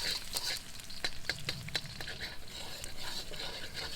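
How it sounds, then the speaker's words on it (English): Garlic frying in olive oil, a faint steady sizzle with light crackles and occasional stirring taps, no voices. "Olive oil, and then put the garlic. Okay, make sure you lightly brown the garlic."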